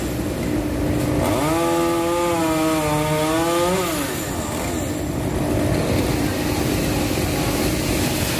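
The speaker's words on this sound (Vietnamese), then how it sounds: "giờ anh sẽ cưa phần thân bỏ dài xuống nha" A chainsaw cuts through the trunk of a longan tree outdoors in District 1, Ho Chi Minh City, the engine whining loudly and rising in pitch under load for a few seconds before easing back to a steady idle over background noise.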